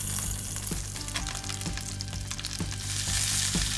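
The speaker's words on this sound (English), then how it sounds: "first they need browning over a high heat" Meat browning in a hot pan over high heat, a steady loud sizzle and crackle of frying with occasional sharp spits and pops, continuous throughout with no talking.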